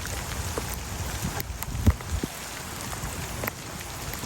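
Steady rain patters on pavement and concrete during an early-morning walk through a city mall under renovation, with a few closer drip taps standing out from the even wash.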